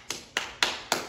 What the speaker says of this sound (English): what if I did this rhythm? Clap, clap, clap.